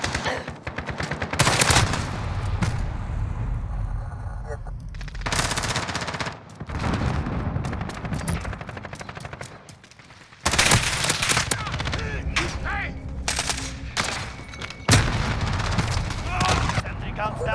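Automatic gunfire in the Call of Duty Black Ops video game rattles in long, loud bursts with brief pauses, mixed with booming shots and game voice chatter.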